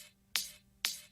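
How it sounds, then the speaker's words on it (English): Two sharp, airy bursts of high noise from the top layer of an electronic downtempo kick snap in and fade quickly, spaced about half a second apart, quiet and bright with nothing else around them. "the last layer to our kick is this high kick noise"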